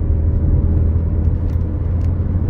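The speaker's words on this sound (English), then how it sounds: "Plenty of power from the turbo engine. This is quite a steep hill, but no issues for this car." A Vauxhall Mokka 1.4 turbo petrol automatic SUV pulls up a steep hill, its engine giving a steady low rumble and drone inside the cabin.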